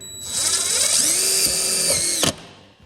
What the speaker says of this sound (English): using a hex head on the end of the hammer type drill here